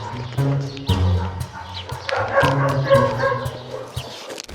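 Several dogs at an animal shelter bark and yip in quick, overlapping bursts, close and loud, with a few whimpers between barks.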